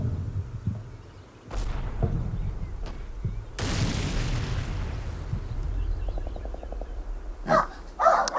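Household dogs bark in short bursts near the start and again at the end, mixed with booming explosions and gunfire from a military strategy game.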